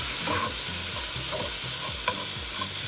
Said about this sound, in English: And then I'm going to toss in some onion. And this is just a yellow onion that's finely diced.